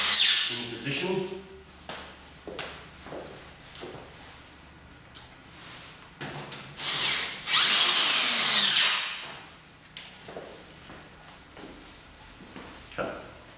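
Power drill driving tek screws into the back of an outdoor kitchen unit, with intermittent whirring bursts and one longer, louder run mid-way, plus clunks of handling nearby.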